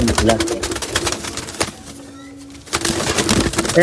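A caught pigeon coos and stirs close by amid loud background clatter and movement, with a brief quieter gap in the middle.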